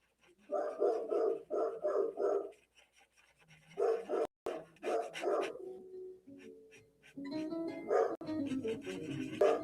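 A large dog barks in a quick run of four or five sharp woofs, goes briefly quiet, then lets out more barks and a drawn-out whine close by indoors.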